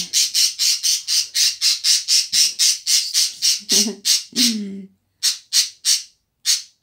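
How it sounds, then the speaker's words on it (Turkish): Rapid, repeated shrill squawks from budgerigars, evenly paced and close, with a few lower chattering calls mixed in before the final sparse squawks. "bu arada kuşların da muhabbet kuşlarının sesleri"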